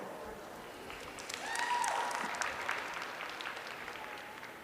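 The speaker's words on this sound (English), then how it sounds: "Let's give all these kids a big round of applause in our senior showmanship grand drive" A crowd at a county fair livestock show applauds senior showmanship competitors, a soft, distant wash of clapping swelling slightly midway while a faint voice carries over it.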